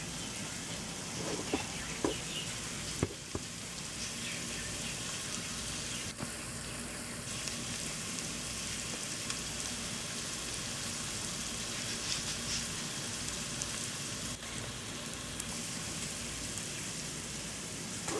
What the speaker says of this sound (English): now we're just going to let that simmer for a little while longer